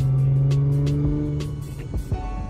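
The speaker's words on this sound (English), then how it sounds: "this is a cold start" Audi S5 B8.5 3.0T supercharged engine idling high and steady after a cold start, with a strong low drone and a few brief rises in revs, heard close with no talk.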